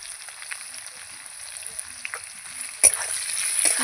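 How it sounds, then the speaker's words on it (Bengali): Potatoes and onion frying in a pan give a faint, steady high sizzle, with one sudden louder clatter partway through before the frying hiss swells slightly. "এবার আমি পেঁয়াজটা দিয়ে দেবো।"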